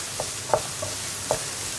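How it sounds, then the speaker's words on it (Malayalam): Ground paste for snake gourd pachadi is sautéed in a pan over a medium flame, a soft, even sizzle with a few light clicks from the stirring spoon, close by and without talk. "ഈ അരപ്പും കൂടി ചേർത്ത് 1 മിനിറ്റ് ഒന്ന് മീഡിയം ഫ്ലെയിമിൽ വെച്ച് ഇളക്കി ഒന്ന് വഴറ്റിയെടുക്കുക"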